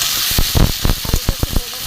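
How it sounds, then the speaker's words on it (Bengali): Potatoes frying in a pan with onion and tomato, a steady hiss with a few soft stirring scrapes, close and moderately loud throughout. "আলুটা একটু ভেজে নেবো।"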